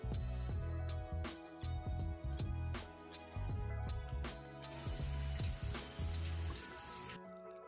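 Tap water runs steadily while natural 3C/4A hair is rinsed at a sink during a wash day, with splashy bursts and a brief hiss near the end, close and fairly quiet with no talking.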